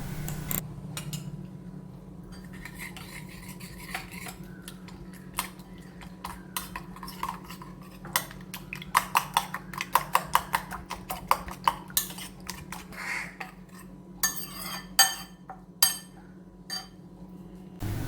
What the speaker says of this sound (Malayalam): ഇനി ഇതിലേക്ക് നമുക്ക് ഒരു സ്പൂണോളം ടൊമാറ്റോ സോസും കൂടി ഒഴിച്ചിട്ട് ഒന്ന് മിക്സ് ചെയ്തെടുക്കാം